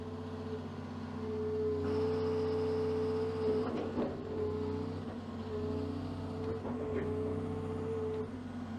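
Hydraulic thumb being worked on a used excavator during a pre-purchase inspection: steady diesel engine drone with a whining hydraulic tone and a few clunks and creaks as the attachment moves.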